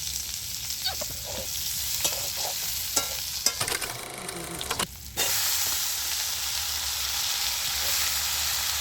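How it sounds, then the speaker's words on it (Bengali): Potato and eggplant frying in oil in a kadai, a loud, close hiss and sizzle with scattered crackles and stirring clatter, a brief dip in the middle, then a strong steady sizzle to the end. "আলু আর বেগুনটা দিয়ে দিলাম।"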